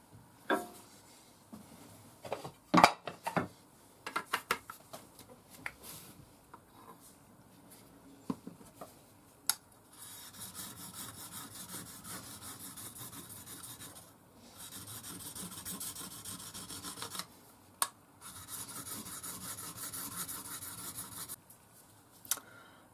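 A Mora knife rubs on an extra fine DMT diamond stone in long, even rasping strokes, quiet and close, set between scattered clicks and handling knocks.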